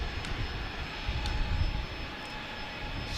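United Airlines Boeing 737-900 taking off at San Diego airport, a steady broad jet engine roar with heavy low rumble, sustained and fairly loud, with no voices.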